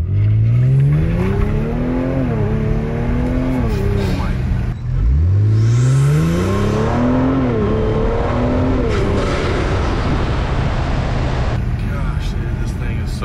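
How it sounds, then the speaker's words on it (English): A Kia Stinger GT 3.3 twin-turbo with Injen intakes and a catback exhaust revs up loudly in sport mode, the engine tone climbing in pitch, dipping briefly, then climbing again as the car accelerates hard from close range. "Sport mode, Injen Intakes, catback."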